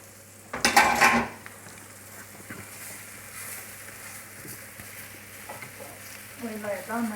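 Lamb pieces brown in a frying pan for stew, with a sharp clatter of utensil against the pan near the start, then a low steady sizzle with light scraping and faint voices toward the end.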